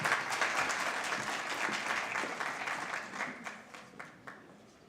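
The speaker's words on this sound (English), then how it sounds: "Let's give him a warm round of applause." An audience at the finals of an International Migrants Day debate in Kenya breaks into warm applause, a dense burst of clapping that thins out and fades toward the end.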